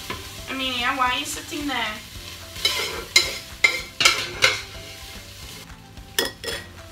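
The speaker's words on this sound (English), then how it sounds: "I'm just gonna scoop out my mince and put it onto a plate for a minute." Fried beef mince being scooped out of a frying pan with a utensil, scraping and clinking against the pan in a string of sharp knocks over a faint sizzle, with a voice speaking briefly at the start.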